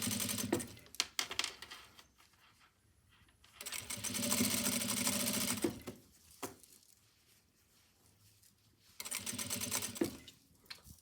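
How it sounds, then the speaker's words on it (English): A sewing machine stitches back over the seams of a jacket in two long, steady whirring runs, separated by quieter pauses with handling clicks and fabric shuffling. "I'm just going to go over the actual stitches that we've already done."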